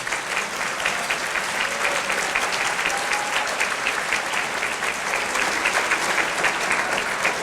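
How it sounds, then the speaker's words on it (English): A ceremony audience claps for county Teachers of the Year, even, continuous applause filling the room at steady volume throughout, with no talking over it. "How about one more round of applause for them?"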